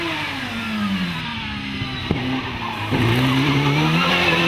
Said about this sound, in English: as Ranson charges into the braking area for Triangle.